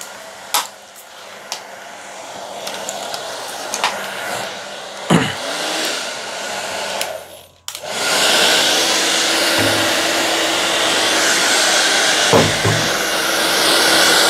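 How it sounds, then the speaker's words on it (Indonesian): A hair dryer drying a screen printing film switches on after a few scattered clicks and handling knocks, then blows a loud, steady, close whooshing roar for the rest of the clip. "Jadi di sini kita keringkan menggunakan hair dryer."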